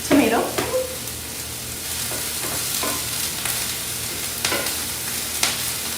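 Garlic cooks down in a pan for a spaghetti frittata, a steady close sizzle with scattered scrapes and clinks of stirring throughout, no talking.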